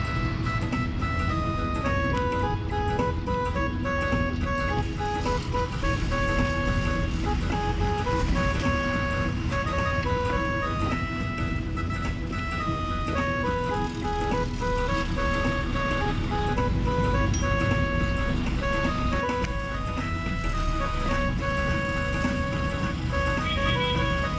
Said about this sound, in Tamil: இதுதான் பெரும்பாலும் பஸ் ஸ்டாண்ட் பாருங்கள் எப்படி இருக்குன்னு பாருங்கள்